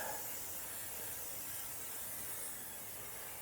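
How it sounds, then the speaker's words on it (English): A continuous hissing spray from an aerosol can coating the inside of a Yoder YS640s pellet grill, steady and close, with no talking. "Give that a brush off before you spray this down."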